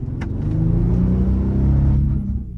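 A 2008 Bentley off-road 4x4 with a deep engine note accelerates on a test drive, heard as a loud, steady low rumble that builds and holds for a couple of seconds before easing slightly.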